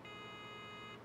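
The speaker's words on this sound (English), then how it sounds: "you're going to wait for two sets of three beeps" A single steady electronic homing beep from a telescope mount, held for about a second, faint against a soft background hiss.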